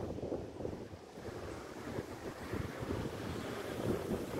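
Strong wind gusts buffet the microphone outdoors as a dark storm approaches over Aparecida de Goiânia, producing a steady, close roar that swells slightly toward the end, with no voices.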